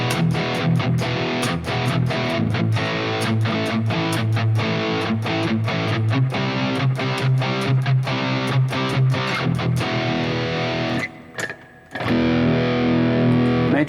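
Distorted electric guitar played through a Sonicake Matribox amp and cabinet simulation with a little reverb, a loud continuous riff of chugged chords with rhythmic stops, a brief gap near the end before ringing notes resume.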